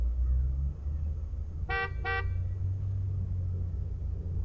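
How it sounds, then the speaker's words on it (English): A left-handed roadster in The Simpsons: Tapped Out game sounds two short, bright horn honks close together, over a steady low engine rumble. "But I wasn't thinking there would be a car alarm"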